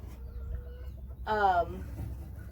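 A barred rock rooster with older hens in a chicken house gives one short, loud clucking call, with a softer low murmur of the flock around it.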